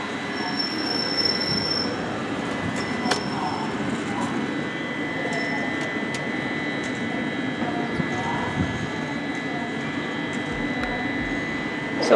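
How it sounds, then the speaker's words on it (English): A train rumbles steadily at a station in Geneva with a faint high squeal of wheels on rails, broadband and continuous, under soft background voices. "Here's a train station."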